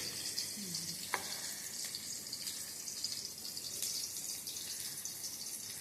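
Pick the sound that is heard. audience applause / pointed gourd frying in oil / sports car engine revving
pointed gourd frying in oil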